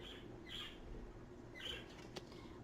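Pet birds flapping their wings and shuffling about nearby indoors, two soft bursts of fluttering with faint chirpy scratching over a low room hum.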